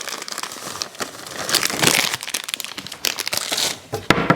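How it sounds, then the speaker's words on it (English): A muffin mix package being cut open and emptied, giving loud close crinkling and rustling of the packaging in irregular bursts, heard at an outdoor open-fire breakfast setup. "all I have to do is just open this up and cut the package open"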